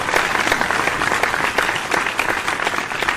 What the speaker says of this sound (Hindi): जोरदार तालियां बजा के स्वागत करें डॉक्टर को